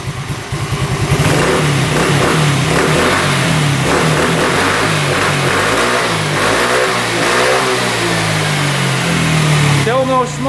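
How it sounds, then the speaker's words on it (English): A small scooter engine, previously written off as unfixable, revs up and holds high with a buzzing, rising-and-falling drone, loud and close, then drops back toward idle near the end. "Yeah, that's revving out awesome. Doesn't bog at all."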